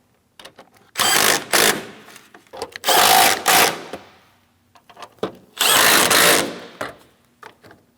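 A power tool snugs up the coolant reservoir bolts on a 2007-2014 Ford Edge 3.5L, with three loud, close whirring bursts of about a second each, separated by quieter clicks and handling noises.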